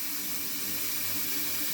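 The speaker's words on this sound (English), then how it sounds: "you're essentially just filling it up with as much as you can room temperature water" Room-temperature tap water runs into a jar being filled for water kefir, a steady close rushing hiss that continues evenly without pause.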